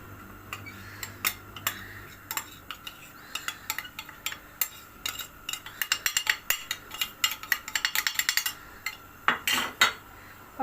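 A spoon stirs corn starch into milk in a bowl, tapping and clinking against the side in a quickening series of sharp strikes that grow dense and rapid toward the end; no talking.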